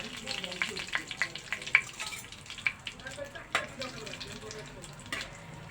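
Whole garam masala spices and cardamom frying in oil in a pan, a quieter close sizzle with rapid sharp crackles and pops scattered over a soft hiss, no talking.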